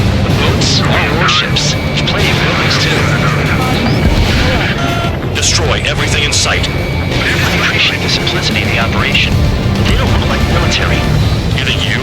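Repeated explosions as pipeline targets are blown up in the combat flight game Ace Combat 7, dense booms and crashes layered over a constant roaring jet engine, loud and continuous throughout.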